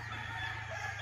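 Chickens and roosters in a backyard on Mt. Banahaw, a steady continuous flock sound with clucking and crowing tones held across the whole second, fairly close and without talk.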